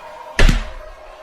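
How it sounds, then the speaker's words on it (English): A cage door holding animals bursts open with a single hard metallic thunk and slam, a short heavy impact that rings briefly and then fades out. "The cage door buckles and snaps open."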